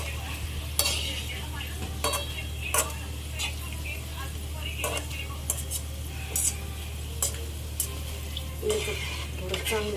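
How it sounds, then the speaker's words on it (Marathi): Finger chips are lifted from hot frying oil, with a steady sizzle under repeated sharp metal scrapes and clinks of a utensil against the pan, while a person talks over it. "तर बघा आपले झाले इथं फिंगर चिप्स रेडी. आपण एकदा तेलातून काढून घेऊया."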